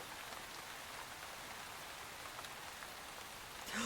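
Rainfall in the video game Hungry Lamb, a constant close wash of pattering drops with a few brighter spatters, holding level until a slight swell at the very end.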